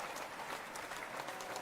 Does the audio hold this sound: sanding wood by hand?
no